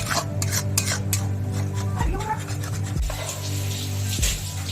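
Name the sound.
stirring tomato and chili paste into spices in pan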